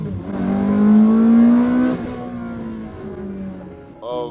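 A budget Ferrari with a repaired blown head gasket and an upgraded exhaust revs hard, its engine note climbing then settling into a steady loud drone before a brief fresh blip at the end.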